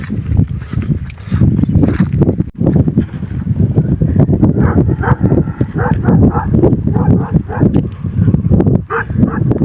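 A large pack of around thirty dogs, including a Kangal, barks outdoors in dense overlapping volleys, close and loud, with wind noise on the microphone throughout.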